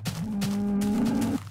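A Minecraft beta 1.7 cow gives a single drawn-out low moo, close and clear, lasting over a second before cutting off.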